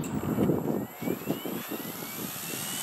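An OMPHobby M2 RC helicopter flies outdoors in a gusty headwind, its rotors giving a steady whirring drone with a high electric motor whine running throughout, fairly close, with no talk.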